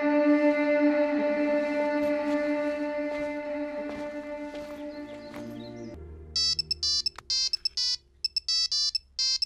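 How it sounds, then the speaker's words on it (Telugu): A phone ringtone plays for an incoming call. First comes a sustained tonal melody, then short, bright, repeated electronic ring pulses, steady and fairly close with no talking. "సారీ రామ్, నువ్వు ఫోన్ చేయొద్దని చెప్పినా ఫోన్ చేశాను."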